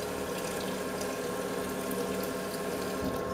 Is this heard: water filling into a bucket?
yes